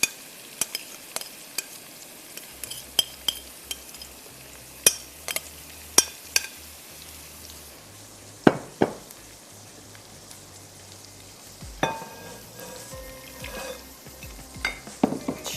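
Spiced meat for tikka biryani being stirred into oil in a pot, with a soft steady frying hiss and scattered sharp clinks and scrapes of the spoon against the pan, no voices.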